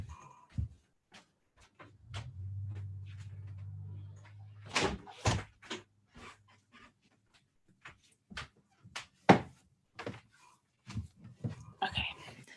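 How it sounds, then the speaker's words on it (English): A door to the outside is pushed shut, giving a couple of sharp, fairly loud knocks amid scattered footsteps and handling noises, with a low steady hum in the first half. "I'm actually going to stop video 1 second while I go shut my door"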